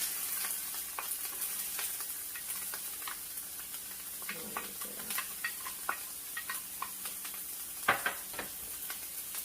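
Bok choy sizzles steadily in a hot pan, with scattered crackles and pops and a faint high hiss throughout, close up.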